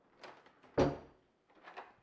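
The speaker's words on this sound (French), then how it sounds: "Ici, une porte qui donne accès au garage" House door to the garage moving, with a single close thud between softer rustling and handling sounds in a quiet interior.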